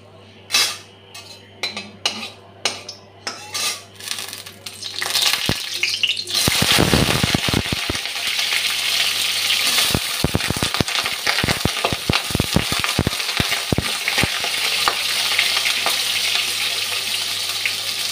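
Eggplant pieces drop into hot oil with dried red chilli already fried, setting off a loud, steady sizzle with scattered clinks of a utensil against the pan.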